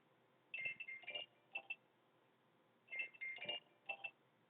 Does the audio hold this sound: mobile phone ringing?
yes